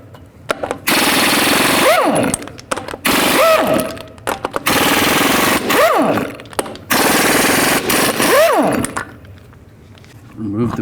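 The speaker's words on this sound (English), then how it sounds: "Carefully take these caps off and remove the lug nuts." Lug nuts being spun off a front wheel of a 2002-06 Chevy Avalanche with a 22mm socket on an impact wrench: four loud, close bursts of rattling hammering, each winding down, separated by short pauses.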